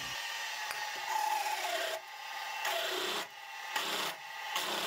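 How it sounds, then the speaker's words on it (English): A milling machine drills a hole at least 15 mm wide for a metal depth rod on a quill stop, giving a steady grinding, rubbing cut with short dips as the feed eases off, close and without talk. "Then I'll drill in a hole for the depth rod."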